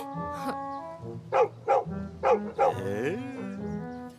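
A dog barks in a rhythmic series of four or five sharp barks over a background hum of music, fairly close and loud.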